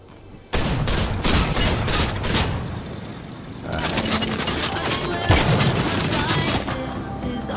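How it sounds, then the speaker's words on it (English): Fortnite gunfire on PS5 kicks in suddenly as a burst of rapid shots, then continues as sustained shooting with a heavy thump midway, while a player talks over the action. "I think he's shooting at the truck."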